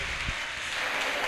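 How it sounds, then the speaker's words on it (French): Audience applause for a man named Paul at a gathering in Lubumbashi, a dense, steady patter of many clapping hands heard alone, without a voice over it. "Monsieur Paul, qu'on applaudit fort."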